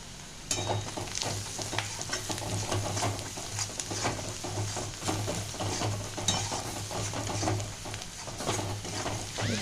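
Pointed gourd with turmeric frying in a pan, a continuous close sizzle with repeated scraping and stirring strokes, no voices over it.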